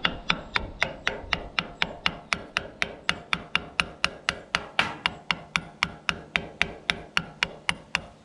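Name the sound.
hammer tapping a washer down onto tractor front end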